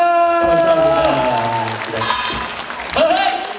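An audience claps in a large concert hall during a stage show at a Miryang arts festival, a dense wash of applause that swells and fades while a presenter speaks over it.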